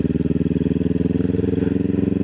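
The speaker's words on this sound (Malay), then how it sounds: "jalan berbukit dah jadi motor scrambler pula motor aku ni" A motorcycle engine chugs loudly and close with a steady, rapid pulsing beat while climbing a hilly road, no voices over it.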